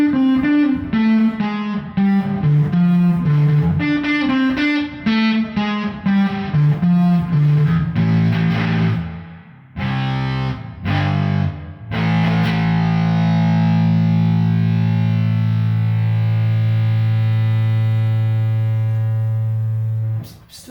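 Electric guitar played through a fuzz pedal: a choppy run of distorted, buzzy notes, then a loud, thick fuzz chord left to ring and sustain for several seconds.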